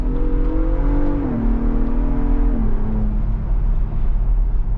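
A loud 2023 Ford Bronco Raptor engine revs and drops in pitch through gear changes, a steady throaty roar with road noise underneath and no talking.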